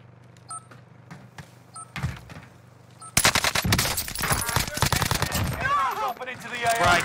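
Rapid automatic gunfire from a Warzone match on Rebirth Island, dense bursts of shots erupting loudly after a quieter stretch of game sounds.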